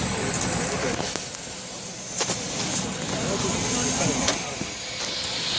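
Jet engines roar steadily with a high whine on top, loud and continuous, while people talk over the noise.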